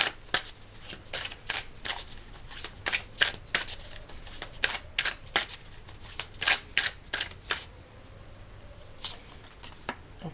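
Rapid papery riffling and snapping of a deck of oracle cards being shuffled by hand, uneven bursts of flicks close to the mic, with a quiet pause near the end before a few more.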